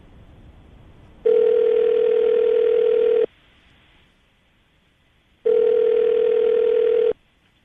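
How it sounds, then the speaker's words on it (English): After a number is dialed, a telephone line gives a steady ringing tone twice, each tone about two seconds long with a long silent gap between them, loud and clear. "I'm gonna dial the phone number right now."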